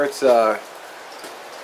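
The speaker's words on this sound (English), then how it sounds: "raining right now." Rain falls outdoors at a park as a soft, steady hiss after a brief spoken word.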